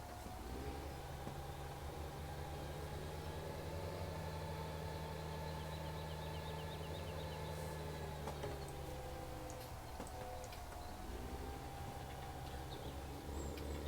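Tractor engine in Farming Simulator 17 hauling silage, a steady low droning hum with a faint higher whine that holds evenly throughout, heard alone without talk.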